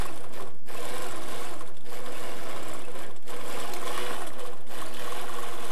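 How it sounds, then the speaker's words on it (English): Sewing machine with a stitch regulator running steadily during free-motion quilting of S-curves, a dense continuous mechanical whir broken by a few brief pauses. "Stitch regulator sound we have."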